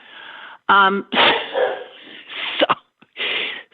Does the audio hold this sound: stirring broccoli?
no